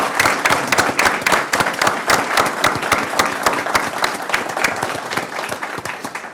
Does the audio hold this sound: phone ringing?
no